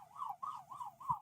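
Faint distant ambulance siren wailing in a rapid repeating up-and-down cycle, heard from afar while passing by a Thailand beach.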